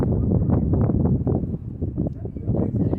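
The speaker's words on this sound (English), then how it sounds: "it's freaking windy and lightning and it's not even raining out here" Strong wind gusts roar and buffet the microphone in a loud, continuous rumble during a night thunderstorm without rain, with no breaks throughout.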